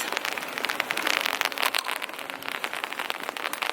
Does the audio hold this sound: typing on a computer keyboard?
no